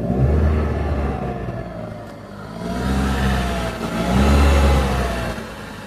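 A 2007 Dodge Avenger with a 2.4-litre four-cylinder engine pulls away from a standstill, its engine note rising and falling through two surges of acceleration, fairly close and loud, with no talking.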